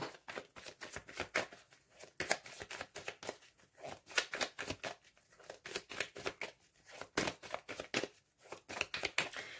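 A deck of tarot cards is handled and cut with rapid, close, crisp card slaps and riffles that keep up a busy, uneven rhythm throughout, with no talking over them.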